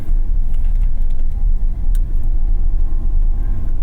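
A 2022 Chevrolet Silverado High Country pickup with a 6.2-liter engine drones steadily on the move, a dense low rumble with road noise and no pauses throughout.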